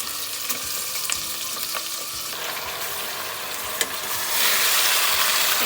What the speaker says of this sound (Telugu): ఆనియన్ కొద్దిగా గోల్డెన్ బ్రౌన్ కలర్ వచ్చాక కడిగి పెట్టుకున్న మటన్ వేసేసుకున్నాం